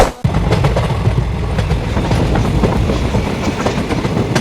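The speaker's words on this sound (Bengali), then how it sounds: "আমাদের ট্রেন এয়ারপোর্ট স্টেশনের ভিতরে ঢুকতেছে" A train pulling into Airport railway station in Dhaka, heard from on board as a loud, steady rumble with rhythmic wheel clatter throughout.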